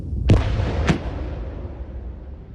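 Controlled demolition of leftover anti-tank mines and grenades in a dug pit, heard as two sharp, heavy blasts about half a second apart. A long rumbling tail fades across the rest.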